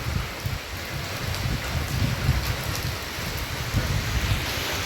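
Heavy nighttime rainstorm in cold weather: a dense, steady roar of downpour with a low rumble running underneath, holding constant throughout with no voices.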